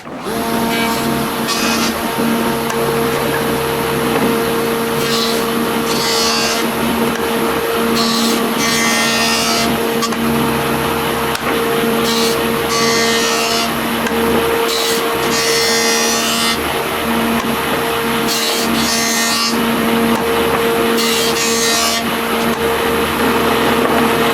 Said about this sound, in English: I'm going to use the joiner planer here